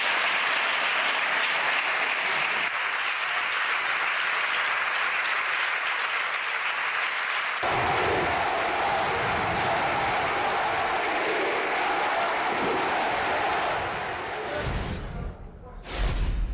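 Crowds outside the Catalan parliament in Barcelona cheer and applaud the independence vote, a dense, sustained wash of clapping and shouts that swells louder midway and fades briefly near the end.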